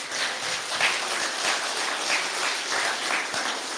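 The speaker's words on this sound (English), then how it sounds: "Let's give a big round of applause for our children." A church congregation applauds children steadily, many hands clapping together in a dense, continuous patter at moderate distance.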